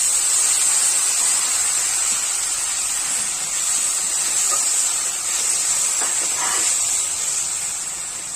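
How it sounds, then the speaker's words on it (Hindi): Chopped tomatoes fry in a pan with a steady, loud broadband sizzle and hiss that holds evenly throughout, broken by a few faint clinks near the end. "अच्छे तरीके से हम भून लेंगे"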